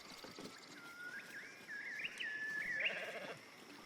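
Disguised red caps heard as sheep in Baldur's Gate 3, giving a single drawn-out, wavering bleat at moderate distance over a faint background hum.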